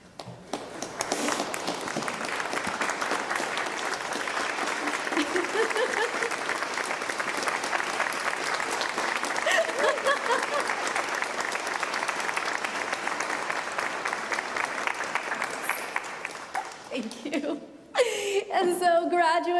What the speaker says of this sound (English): Would you do me the honor of standing up so that we may applaud you?